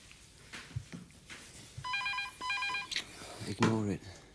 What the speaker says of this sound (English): And I better answer the phone.